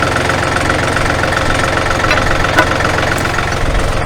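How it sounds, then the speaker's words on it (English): A loud fan runs outdoors on a hot day, making a constant, close, heavy mechanical drone with a slight throbbing texture that never lets up. No one speaks. "Sorry for the loud sound, that's the fan that's going"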